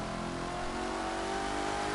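Supercharged Chevrolet Corvette C6 engine of over 660 horsepower revving in the racing game The Crew 2, a steady loud droning roar with a supercharger whine, held constant and close with no speech.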